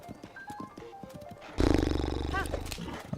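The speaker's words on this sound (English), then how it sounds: "That's the noise a horse makes." A horse in the video game Zelda: Tears of the Kingdom gives a loud, rough neighing roar that starts abruptly and holds for over a second, following game music and a voice.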